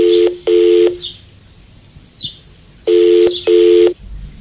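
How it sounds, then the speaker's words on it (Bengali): Telephone keypad dialing tones in a Bengali audio story: two pairs of steady electronic beeps separated by a quiet gap with faint chirps, clear and close with no talking. "ঝন্টু যাবার ঘন্টাখানেক বাদে অনুপম ফোন করল রাকার শ্বশুর বাড়িতে।"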